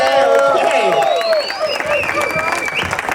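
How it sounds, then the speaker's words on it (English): Audience applause and cheering at a Q&A event in a Miami supercar showroom, dense clapping with whoops and voices mixed in, loud and close throughout, with some talk. "give him a big round of applause."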